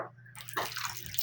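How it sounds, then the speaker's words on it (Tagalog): Vinegar poured into a pot of fish paksiw with tomato, chili, garlic and ginger, a short close splashing liquid stream that gurgles and trickles. "Bubuan na natin ang suka"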